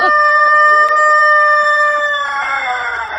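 A rooster crows in one long, loud, sustained call with clear harmonic tones, held steady before breaking into a rougher, strained finish near the end, with no talking.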